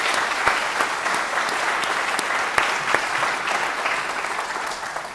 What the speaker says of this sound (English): So give it another round of applause.